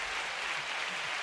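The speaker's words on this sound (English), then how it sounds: "It's supposed to be applause" An applause sound effect, a short steady hiss of clapping that blurs together like wind, with no distinct individual claps.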